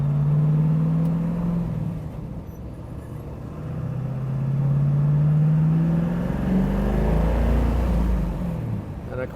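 A 1970 Ford Mustang Boss 302 V8 runs on the road, a low steady engine drone with gentle rises and falls in pitch as it cruises, with someone talking faintly over it.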